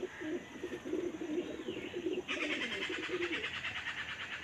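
A female running pigeon of the deep-eye type coos softly and repeatedly at close range, the calls rolling low beneath faint higher chirps and a steady background hiss.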